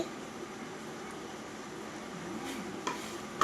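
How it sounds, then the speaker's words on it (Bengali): A mughlai filling of chopped onion and fried bread slices being stirred in a pan, a faint continuous low sizzle with occasional light scrapes and a couple of spoon taps near the end. "পুরটাকে এখন ভালো করে নেড়ে চেড়ে নিতে হবে"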